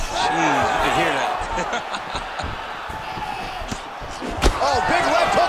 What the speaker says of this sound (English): Oh, big left hook there.